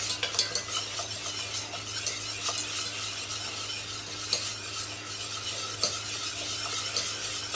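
Butter is poured into béarnaise sauce and whisked in, giving a brisk, continuous scraping of a whisk against the bowl with small clinks, steady and close, with no voice.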